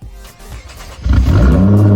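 A 2017 Nissan GT-R engine in the video game Driving Empire fires up partway through, settling into a loud, steady low rumble after a brief quieter lead-in.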